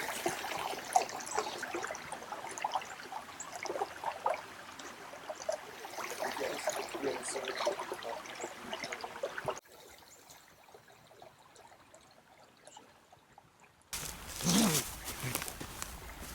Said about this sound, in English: All right, so we're on a creek.